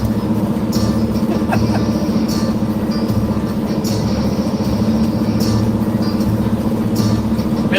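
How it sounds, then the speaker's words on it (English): A Cummins diesel truck engine idles loudly and up close, a constant low, throbbing rumble with faint clicks over it, holding steady throughout. "I pulled up, and this truck is very noisy."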